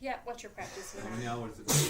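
A single sharp sneeze bursts out near the end, loud and close, right after a man's conversational speech about trucking work.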